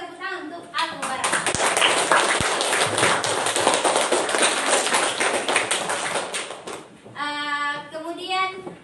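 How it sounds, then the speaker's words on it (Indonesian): Classroom of students clapping hands in unison for a classmate, brisk and close, lasting several seconds before tapering off as children's voices take over. "berikan tepuk tangan untuk Al-Mubarak"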